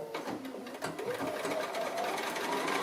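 A sewing machine with a dual feed foot runs steadily while quilting a quarter inch around a quilt border, a continuous close whirring hum with light mechanical chatter throughout.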